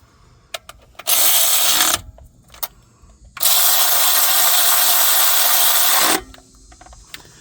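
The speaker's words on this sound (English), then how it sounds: "This ratchet does not have a whole lot of torque" A hand ratchet tightens bolts during a transmission filter and oil filter change on a 2011 Ford F-250 6.7, making two bursts of rapid, loud clicking, one short and one long, with brief clicks and handling noises between them.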